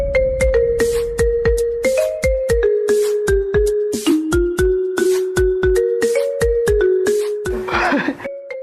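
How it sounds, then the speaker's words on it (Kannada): A phone ringtone for an incoming call plays as a loud, steady melody of short synthetic tones, repeating rhythmically for several seconds with no talk over it. "ತ್ರಿವಿಕ್ರಮ್ ಫೋನ್ ಮಾಡ್ತಾನೆ"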